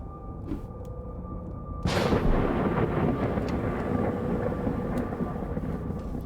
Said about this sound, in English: Thunder. Very, very frightening.